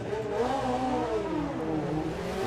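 Drag race cars at the STP Sportsman Nationals roar off the line down the strip, a sustained loud engine howl with rising pitch, heard from nearby with no speech.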